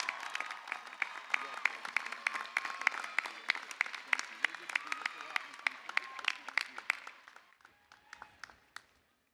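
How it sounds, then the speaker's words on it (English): Commencement audience applauding at Cal Poly's spring ceremony, a dense wash of many hands clapping steadily for about seven seconds before thinning into scattered, fading claps. "Please give her a big round of applause."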